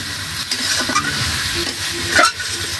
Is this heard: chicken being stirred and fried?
yes